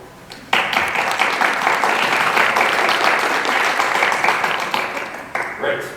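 Studio audience at a community radio play production applauds loudly, a dense wash of clapping that bursts in after a brief lull and holds steady for several seconds before tapering.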